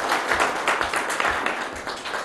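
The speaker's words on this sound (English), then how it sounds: "So please join me in giving him a round of applause." An audience at a city council meeting applauds an award recipient, a short burst of many hands clapping fairly close and loud, with an uneven pulsing texture.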